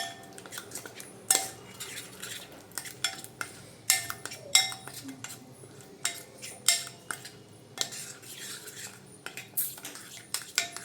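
A spoon clinks and scrapes against a bowl while thick chicken drumstick batter is mixed. The strokes come repeatedly and fairly steadily, close by, with no talking.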